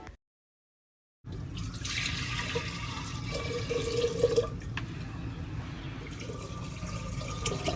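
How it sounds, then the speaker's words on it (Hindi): Hands are washed under a steady stream of water in a home kitchen on a cold, foggy winter morning, a continuous close splashing rush that starts after a second of silence and runs on evenly. "अब हाथों को धो लेते हैं"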